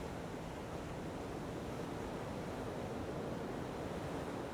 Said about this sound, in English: You can hear the ocean, right?